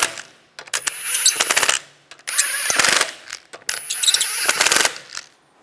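A ratchet snugging down lug bolts on a 2006-2009 Volkswagen Rabbit front wheel: three bursts of rapid metallic clicking separated by short pauses, close and loud.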